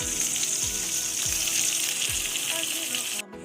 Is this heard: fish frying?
yes